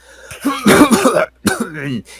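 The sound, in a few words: narrator imitating a character's cough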